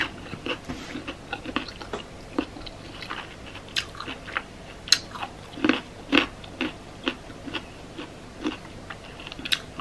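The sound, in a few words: chewing and crunching raw carrot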